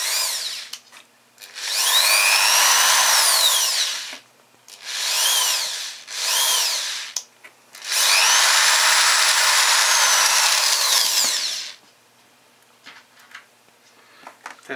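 A power drill whines in several bursts while drilling a 4 mm hole for an M5 thread, two long runs and shorter ones between, loud and close with quiet gaps.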